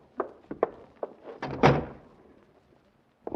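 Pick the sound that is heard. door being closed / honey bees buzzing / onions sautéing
door being closed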